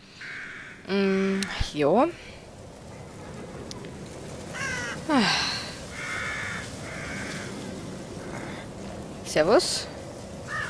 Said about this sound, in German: Eine Krähe. Ein Rabe, wie auch immer.